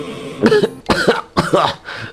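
Four harsh coughs in a row, loud and close, each a short rough burst with brief pauses between them.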